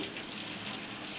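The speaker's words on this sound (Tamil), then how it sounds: "இதோட கொஞ்சம் தண்ணி சேர்த்து" A short, close gush of water poured into a pan of fish curry, a steady splashing hiss with no talking.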